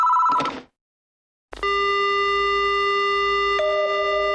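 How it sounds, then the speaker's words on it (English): A telephone dial tone inside the Death Mark video game follows a short ringing blip and a silent gap, then sounds loud and steady with a shift in pitch partway through. "The only sound I hear is the dial tone."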